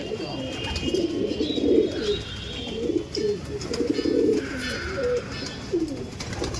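Madras owl-face pigeons, an old-generation line, coo in repeated soft, throaty rolling bursts close by, over steady background noise.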